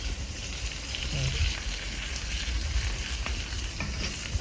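Fennel seeds, dried and green chillies and onion frying in homemade ghee for a rustic chicken do pyaza, a steady close sizzle and crackle that runs unbroken throughout.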